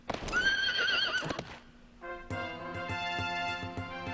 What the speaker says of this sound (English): Thomas gets a grasslands horse